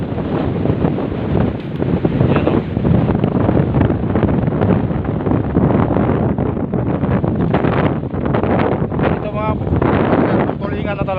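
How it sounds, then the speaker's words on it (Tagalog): Strong coastal wind batters the microphone with a steady, loud roar near fishing boats, while people talk beneath the buffeting. "malakas yung hangin."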